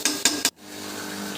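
A metal lid is set on a pot of duck curry, a few quick close clinks and scrapes of metal, then a soft steady simmering hiss.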